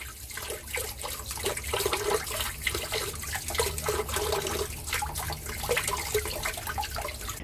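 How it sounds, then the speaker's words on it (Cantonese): Water runs from a tap at a low flow while small abalone are scrubbed clean under it, a steady close splashing broken by scraping bursts from the brush, with no voices. "你可以開細少少個水喉嘅，一路刷一路沖"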